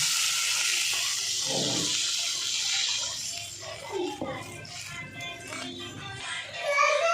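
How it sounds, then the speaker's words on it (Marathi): Water is poured from a small pot into a cooking pot with a bright, splashing rush, and voices talk faintly in the background toward the end. "एक तांब्यावर पाणी घालून घेते मी"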